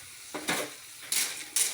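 Agurong snails in coconut milk bubble in a pot, giving soft hissing surges and gentle pops that swell and fade in short bursts, quiet and close, without talk.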